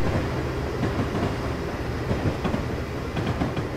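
An American freight train in Train Simulator 2015, a dense continuous rumble of heavy rolling stock with rattling, clanking texture, moderately loud and steady with no talk.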